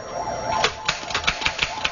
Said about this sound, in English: The Underwood was the first modern typewriter.